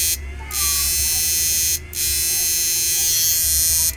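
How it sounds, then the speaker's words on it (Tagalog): A loud, steady electric blower fan motor whine hums continuously, cutting out briefly twice before resuming, close and dominant. "Tanggalin ko muna yung blower para hindi maingay."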